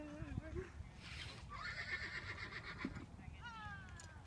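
A horse neighs loudly and shrilly in several rising and falling whinnies, with hooves and background voices underneath.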